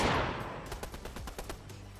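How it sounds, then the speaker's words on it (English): Shotgun fire in Fortnite Chapter 3, a loud blast followed by a quick run of sharp repeated shots fading into game noise. "you got hit with a shotgun"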